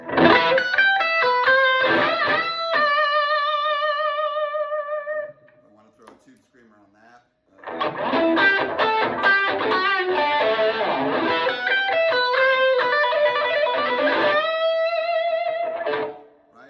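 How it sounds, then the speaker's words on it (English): An electric guitar plays a sustained lead line through a small amp with a light reverb effect, ringing phrases with held, vibrato-laden notes, a brief pause, then more melodic runs, loud and close. "that's just a little bit of reverb on"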